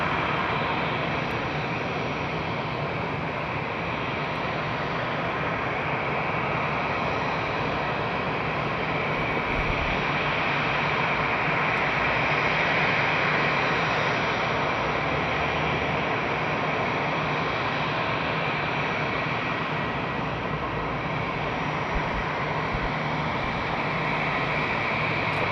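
A jet airplane at Madeira Island Airport produces a continuous, loud engine roar that holds steady throughout the long stretch, with no voices heard.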